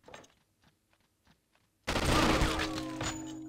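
Gunfire erupts in the True Crime: Streets of LA video game after a couple of seconds of near silence with faint knocks, then a loud, dense volley of shots continues steadily to the end.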